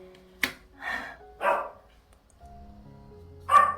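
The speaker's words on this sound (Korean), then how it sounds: "짖었어요." A dog barking in a few sharp, separate bursts, close and fairly loud, with quiet gaps and a faint low hum between them.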